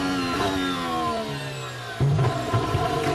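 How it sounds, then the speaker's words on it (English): Formula 1 car engine at the Dutch Grand Prix free practice, a high, sustained whine that sweeps in pitch as the car heads down toward Tarzan corner, then drops and shifts as it brakes. "Here is the sound of Pierre Gasly just making his way down towards Tarzan"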